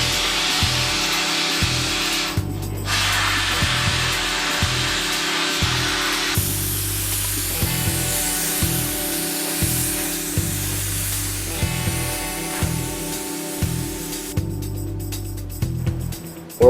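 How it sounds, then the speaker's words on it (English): Glass bead blasting of car frame and suspension parts from a 1940s Chevrolet before priming, a steady hiss of blasting with a rhythmic, repeating mechanical pulse underneath that stops briefly and resumes. "We are glass beading the parts before priming."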